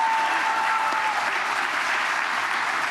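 Steady, dense audience applause for the sailor Damien at a Vendée live broadcast, a continuous close clapping wash running evenly from start to finish without a break.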